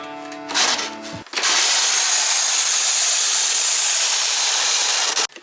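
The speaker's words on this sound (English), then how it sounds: "so the last time Drew was out on the DT, had a loud noise coming from the engine" A Yamaha DT200R dirt bike engine with a suspected worn clutch and a noisy bottom end runs close and loud, first a brief uneven burst, then a harsh, steady roar that holds for several seconds before cutting off.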